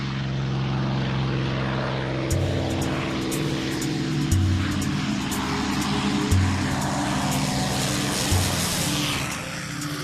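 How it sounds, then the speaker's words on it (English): Piston engines of WWII fighter planes, a P-51 Mustang and an FW 190, growl loud and steady throughout, with a deep propeller drone and periodic swells as the aircraft pass close. "the throaty growl of their airplanes"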